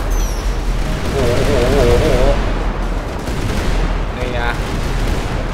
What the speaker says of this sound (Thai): เรือดำน้ำเรายิงปืนได้ครับ